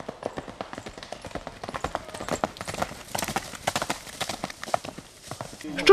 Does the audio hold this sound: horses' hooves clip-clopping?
yes